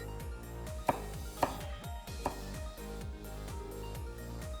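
A knife chops half an onion into 0.5 cm slices for salt yakisoba, giving three sharp board taps at a steady pace over soft background music, with no talking.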